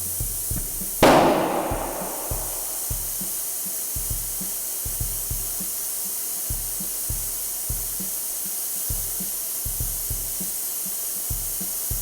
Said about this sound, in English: Both beads have jumped over the humps. We heard that through the bang.